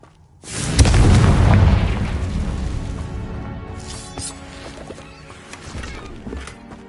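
A Confringo fire spell bursts in the Hogwarts Legacy video game, a deep, heavy boom that hits suddenly and then rumbles and crackles as it slowly fades over several seconds.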